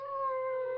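A human voice imitating a coyote howl, one short sustained wavering yell held with a steady pitch, alone and close.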